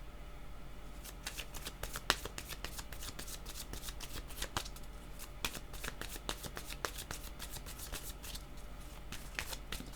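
Tarot cards being shuffled during a Scorpio reading: a steady run of crisp, close riffling and slapping card sounds over about ten seconds, with no voice.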